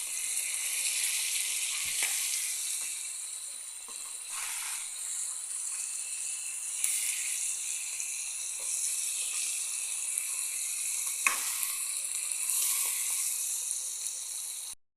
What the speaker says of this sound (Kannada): ಈಗ ಫಿಶ್ ಉಲ್ಟ ಮಾಡುವ